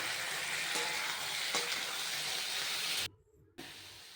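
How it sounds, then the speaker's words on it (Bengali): Vegetables frying together in a pan for semolina upma, with a soft, steady hiss and a few faint stirring clicks, cutting out briefly near the end. "সবজিগুলোকে এর সাথে ভেজে নেব সব একসাথে।"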